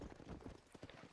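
Horse hooves clip-clopping at a steady riding gait in the video game Red Dead Redemption, close and fairly loud with a brief whinny-like touch, no talk over it.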